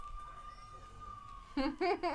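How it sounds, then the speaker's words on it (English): A faint ambulance or police siren wails steadily in the distance outside, then voices speak over it near the end. "there's an ambulance coming, or maybe the cops"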